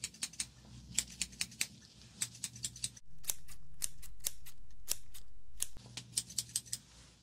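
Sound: scissors cutting

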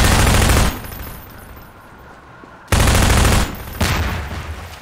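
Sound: gunfire in the video game Half-Life 2 mod

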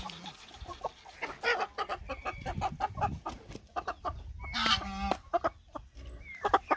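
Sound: rooster clucking

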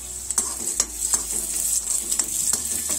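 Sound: cashews and raisins frying in ghee

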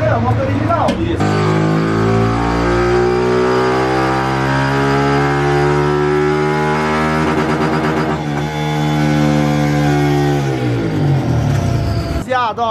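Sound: motorcycle revving on a dynamometer

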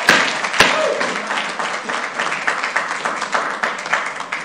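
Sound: applause at city council meeting

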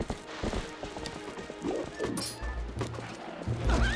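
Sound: horse hooves clip-clopping in Zelda Twilight Princess video game

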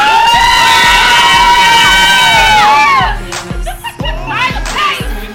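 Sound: crowd cheering

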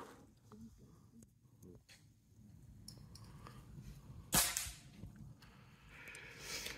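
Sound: gunshots from rifle shooting at targets

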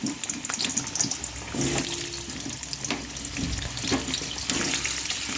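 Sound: tap water washing chicken

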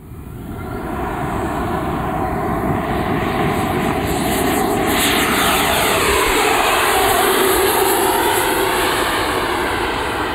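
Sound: Freewing Avanti RC model jet with 80mm EDF taking off and flying

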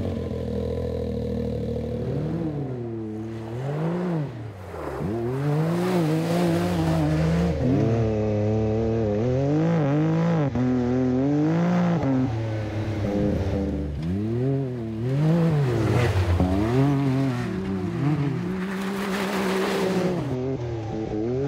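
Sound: Can-Am Maverick X3 Turbo UTV with MBRP aftermarket exhaust driving

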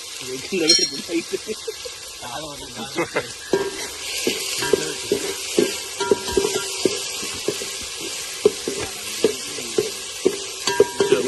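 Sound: onions frying in groundnut oil

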